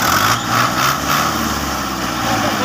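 A tractor engine revs steadily at close range while a thresher is being attached, giving a loud, continuous mechanical drone with slight rises in pitch and no speech over it.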